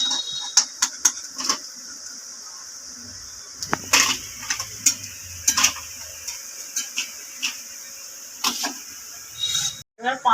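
Urad dal fritters (bora) frying in hot oil for a Bengali vegetarian meal give a steady sizzle, with repeated clinks and scrapes of a spatula against the pan close by and a short break near the end.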